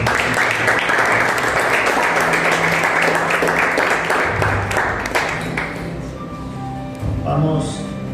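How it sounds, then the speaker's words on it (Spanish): A church congregation applauds during a sermon, many hands clapping in a dense, loud burst that fades after several seconds, with voices over it and tones lingering underneath. "Denle un aplauso al Señor."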